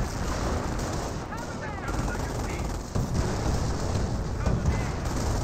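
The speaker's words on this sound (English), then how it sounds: "Captain does go down to the autocannon fire." Autocannon and small-arms fire in the Company of Heroes 1 strategy game, rattling in dense continuous bursts with heavier thumps through the clip, and a caster speaking over the battle.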